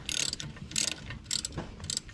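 Socket wrench ratcheting in bursts while drawing in screws during bevel gear bearing repair on a Kubota B7200 semi-compact tractor, four quick clicking runs close up with no talk.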